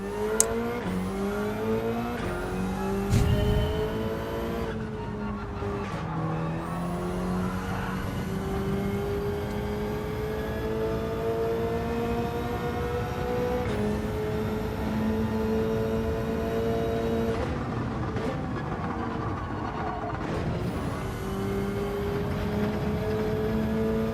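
Race car engine in Gran Turismo 7 drives continuously at high volume, its pitch climbing through gears with repeated rises and sudden drops at each shift, and a brief tire squeal near the start.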